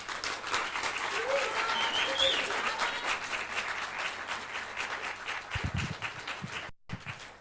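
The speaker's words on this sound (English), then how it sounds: "And please give a round of applause for Mr." A conference opening ceremony audience breaks into sustained applause, steady and full through most of the stretch. It fades toward the end, where a brief voice and a short cut-out break in.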